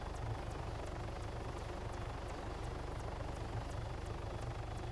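A helicopter in the military video game Arma 3 produces a steady, low rotor and engine drone throughout, continuous and moderately distant, with no talk.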